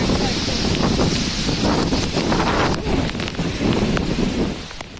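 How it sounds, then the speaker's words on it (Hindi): Strong cyclone wind lashing the Maharashtra coast, a loud, continuous roaring buffet of gusts battering the microphone with rushing, rustling turbulence throughout, steady without pauses. "इतनी तेज हवा है कि कई बिजली के जो पोल है वो भी गिर"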